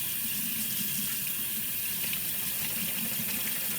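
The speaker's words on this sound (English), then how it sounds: "I'm going to go ahead and run this underneath the faucet for about 5-10 seconds or so" Running kitchen faucet water pours steadily over canned beans in a strainer, a constant close hiss and splash that holds at the same level throughout with no talking.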